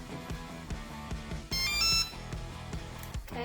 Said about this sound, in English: Now all I have to do is turn on my remote, and it does this little signal. It tells you that it's ready.